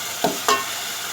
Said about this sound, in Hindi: हमने शलजम को भूनना है कि शलजम का कलर चेंज हो जाए